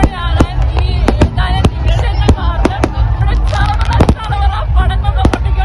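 New Year firecrackers bursting at Baga beach in Goa, a rapid irregular string of sharp cracks and bangs, loud and close, over a steady crowd hubbub with voices talking throughout.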